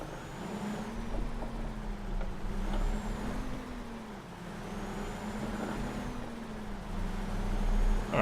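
A Ural 6464 truck engine drones in Euro Truck Simulator 2, a steady low hum that rises and falls gently in pitch as it labours along, continuous and fairly close with no talking.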